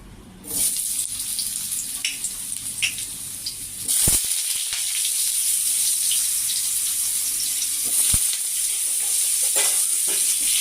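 Potato pieces go into a little hot oil for a Bengali vegetable dal. A loud, steady sizzle fills the clip, surging sharply about four seconds in and holding strong to the end, with no voices.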